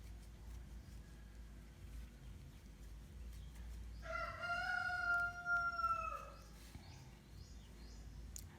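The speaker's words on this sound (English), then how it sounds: "I stay in the countryside of Uganda. So the birds, you'll be hearing everything here." A rooster crows in the Ugandan countryside, one long drawn-out cock-a-doodle-doo rising over a steady low background hum, with faint clucking fowl around it and no speech.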